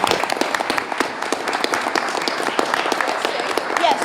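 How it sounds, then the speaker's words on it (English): Steady audience clapping at a Greenville County school district board meeting, a dense run of many hands sustained evenly throughout, with faint voices in the room. "Let's give Carlisa a round of applause"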